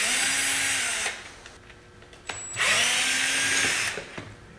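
A power hex driver backing screws out of the bumper of a giant Kraken Vekta.5 RC race buggy, two whirring bursts of motor drive with a short pause and a small click between them, close and loud.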